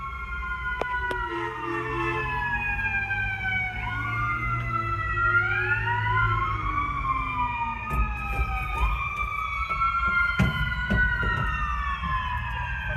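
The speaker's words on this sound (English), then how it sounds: "An ambulance." A wailing ambulance siren in New York City sweeps up and down in pitch continuously, close and loud, over a low rumble of traffic and engine noise.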